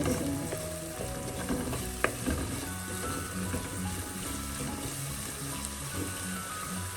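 Heated spice powder sautés in a pan while a pepper curry of white tuna is being made, giving a steady, soft frying sizzle with one brief clink partway through and no talking.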